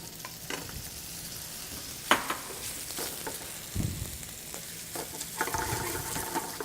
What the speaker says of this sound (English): So let's start with our chorizo. We're going to get some nice color here.